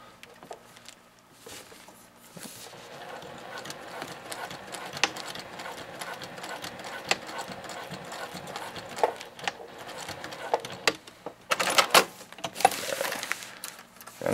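Sewing machine stitching a tie-out onto a tarp box, sewing along the stitch line: steady mechanical whirring runs near and continuous for most of the stretch, with sharper clicks and a louder burst of machine noise toward the end.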